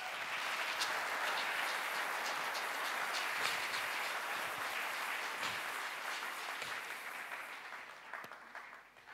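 A church congregation applauds in a dense, sustained wash of clapping that holds steady for several seconds and then starts to thin and fade toward the end, with no voices standing out.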